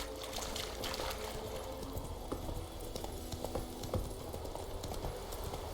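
Horse hooves clip-clop at a steady gallop-like rhythm in The Witcher 3, mid-loud under a constant ambient wash with faint trickling water, no one speaking.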